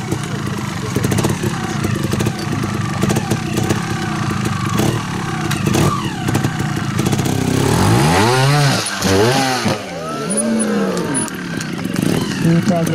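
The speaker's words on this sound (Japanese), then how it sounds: "やっぱこのアクセル音が、エンジン音が全然違いますね" A trial motorcycle works through a special competition section at a trials event, its engine buzzing close by and revving hard in sharp bursts midway. Spectators talk over the noise.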